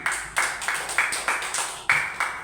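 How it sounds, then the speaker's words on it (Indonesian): A classroom group claps together for the corn team, about eight even, rhythmic unison claps at a steady pace, fairly close and moderately loud, with no talking. "Tepuk tangan dulu untuk kelompok jagung."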